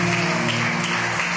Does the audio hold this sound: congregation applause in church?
yes